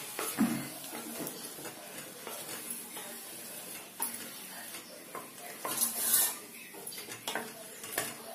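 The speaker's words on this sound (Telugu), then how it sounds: "తాలింపు అంతా వీటికి పట్టేట్టుగా కలిపేసుకోండి." A cauliflower and green pea curry is stirred in a pan with tempering spices. A spoon scrapes and knocks against the metal in irregular strokes over a soft sizzle, with a few sharper clinks.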